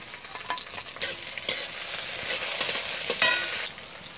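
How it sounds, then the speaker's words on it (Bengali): Chopped onion, garlic, ginger and tomato sizzle in hot oil with whole cumin while a spatula stirs and scrapes the pan in several sharp, close strokes over a steady frying hiss. "পেঁয়াজটা একটু ভাজা ভাজা হয়ে গেছে, এবার রসুন কুচি, আদা কুচি, টমেটো কুচি দিয়ে দিলাম"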